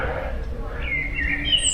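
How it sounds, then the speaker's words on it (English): Small birds chirp in the open air in the Irish harbour town of Cobh, brief high tweets over low background murmur, faint and somewhat distant. "The birds are chirping."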